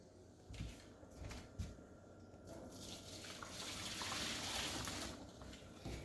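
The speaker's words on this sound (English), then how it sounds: "So I'm just going to set that in the sink while I empty out the water." Water is poured out into a kitchen sink while cooking, a soft continuous splashing and trickle that builds toward the middle, with a few light clatters of cookware around it.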